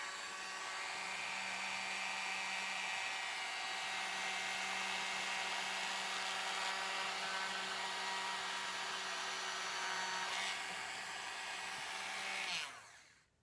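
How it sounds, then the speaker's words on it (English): A power drill whines steadily at high speed for several seconds, close by, drilling a pilot hole, then winds down and stops. "we're going to go ahead and drill the first hole."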